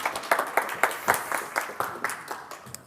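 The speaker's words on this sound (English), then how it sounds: "So applaud." Audience at a conference talk on the D programming language claps at a moderate distance. The claps are distinct and irregular and slowly thin out.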